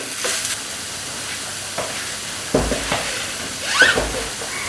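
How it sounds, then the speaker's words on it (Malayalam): Fennel powder sautéed in a pan while cooking a kappa dish, a quiet sizzle broken by a few sharp scraping stirs of a spatula against the pan. "പച്ച ചുവ അതിൻ്റെ പോകാൻ വേണ്ടി ജസ്റ്റ് ഒന്ന് വഴറ്റി കൊടുക്കാം"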